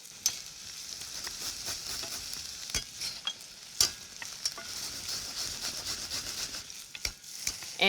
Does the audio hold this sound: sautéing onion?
yes